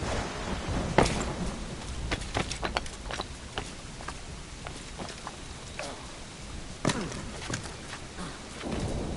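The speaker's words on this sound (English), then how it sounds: "It's pouring rain." Steady hiss of heavy rain in the video game Assassin's Creed Black Flag, with scattered sharp cracks and taps, some louder bursts standing out near the start and later on.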